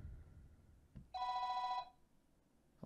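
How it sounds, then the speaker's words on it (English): A phone-call ring from the video game Undertale, a single bright electronic trill lasting under a second, clear and steady over quiet background hiss with no voices. "Oh, come on, stupid phone call"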